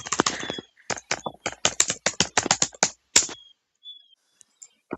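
Fast, uneven bursts of typing on a computer keyboard, close and crisp, with keystrokes clustered in quick runs and a brief pause near the end.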